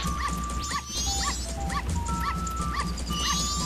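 A dog in The Legend of Zelda: Majora's Mask gives repeated short yips and whimpers in an even rhythm, loud and close, alongside synthetic game chimes and background music.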